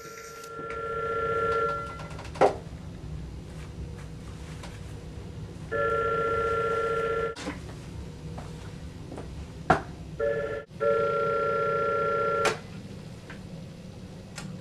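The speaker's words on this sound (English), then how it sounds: "I was even considering closing up the office for a few days, when the phone rang" An old-fashioned telephone rings in repeated electronic bursts, about three separate rings spaced a few seconds apart, with soft clicks and thumps in a quiet office between them.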